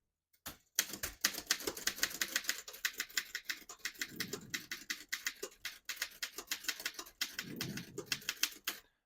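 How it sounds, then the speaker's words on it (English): Vintage 1929 Underwood No.3 desktop typewriter being typed on: a steady run of sharp, close key strikes with clacking rhythm, pausing around four and seven seconds for heavier thumps of the carriage or lever, no talking. "Absolutely beautiful typing machine. This is probably the most popular typewriter ever produced."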